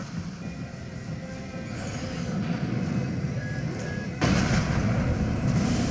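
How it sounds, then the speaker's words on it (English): An explosion hitting an enemy mech in the Armored Core 6 video game lands as a sudden loud boom over steady rumbling mechanical noise and distant gunfire. "Explosion hit him."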